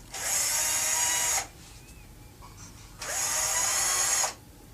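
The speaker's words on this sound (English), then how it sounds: "you take your screw gun and fasten the liner to the hood" A screw gun drives screws to fasten a metal liner inside a range hood during installation, two loud sustained whirring bursts of about a second and a half each, separated by a quiet pause.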